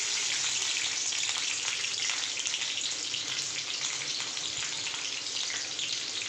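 Green chilies sizzle loudly in hot oil for a bottle gourd curry, a dense, steady crackling hiss that stays close and constant throughout, with no talking.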